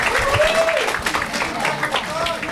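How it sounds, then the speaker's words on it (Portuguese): Audience at an LGBTQIA+ public policy seminar applauding an honoree, a short burst of clapping mixed with whoops and voices, fairly close and lively. "Uma salva de palmas para Ellen."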